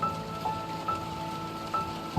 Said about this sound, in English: Rain stream from the summer sky is crisp clash with the puddles on the ground, creating a symphony of splatters.